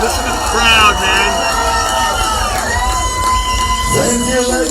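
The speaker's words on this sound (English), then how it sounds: "Listen to the crowd, man." Crowd at a live rock show cheering and whooping loudly, with yells and shouts rising over a dense wall of noise close by, and music tones running underneath.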